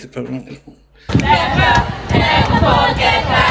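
Cheering from a woman named Em after kissing, a sudden burst of loud excited crowd-like voices that rises after a quiet moment and stays high and busy, with talk mixed in.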